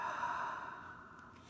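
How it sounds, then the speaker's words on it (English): One slow, steady breath is let out during a guided breathing meditation for children. The soft airy exhale is close and quiet, with no talking over it. "Breathing in and breathing out."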